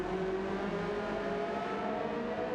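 A Suzuki GT3 race car engine droning steadily at high revs during a race, a constant loud whine with no talk over it.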